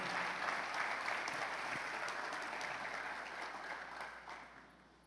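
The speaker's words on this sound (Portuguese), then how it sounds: "Glorifica o Senhor comigo, aplauda Ele" A church congregation applauds together during an evening worship service, a steady wash of clapping from many hands that fades gradually toward the end with no talking over it.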